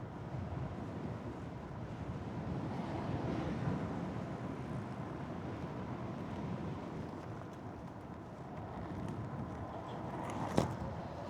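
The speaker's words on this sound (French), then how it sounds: "Il y a du vent quand même." Wind rushing past while riding a Segway GT3 Pro electric scooter outdoors, a steady broadband roar buffeting the microphone, continuous and fairly faint, with one brief sharp knock near the end.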